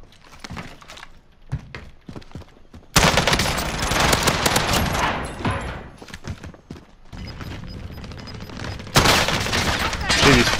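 Rapid, heavy shotgun blasts in a battle royale rebirth match, loud bursts crowding the clip with dense repeated shots, especially after the first few seconds, with a player talking over them.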